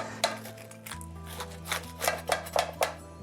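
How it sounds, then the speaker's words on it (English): A pizza cutter rolls through a crisp, flaky focaccia di Recco, making a few short crunchy, scraping cuts at close range over a low steady hum. "You can cut it with a knife, but I like the pizza cutter."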